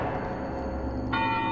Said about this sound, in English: what the hell is this bell ringing?